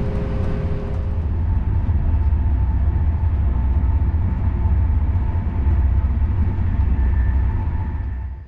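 An older Deutsche Bahn locomotive-hauled Intercity train runs along, a loud, steady low rumble with faint rail clatter and a thin higher whine, continuous throughout and with no talking.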